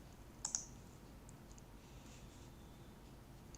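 A computer mouse clicks while someone works in Blender 3D software: two quick, faint clicks close together near the start and a single click at the end, with a near-silent room between them.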